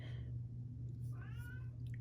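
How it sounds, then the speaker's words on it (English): A cat gives a short meow, followed by a second, more drawn-out wavering meow over a steady low hum in a quiet indoor room. "This cat is tripping."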